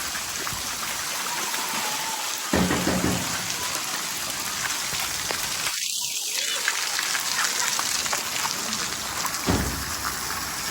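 Heavy rain pours down steadily in a dense, hissing roar on a Pakistani village, with a voice briefly heard partway through.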